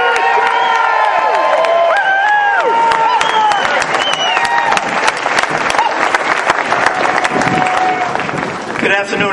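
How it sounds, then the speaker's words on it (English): Loud crowd applause and cheering with whoops and shouts for a speaker being introduced at a political event, dense and sustained throughout, close and energetic. "A big round of applause."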